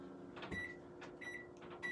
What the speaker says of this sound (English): So I'm going to put it in the microwave